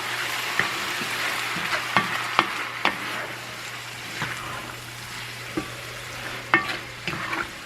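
Canned pineapple chunks are stirred in a frying pan over a soft, steady sizzle, with a spoon clacking and scraping against the pan every second or so, close by and with no speech.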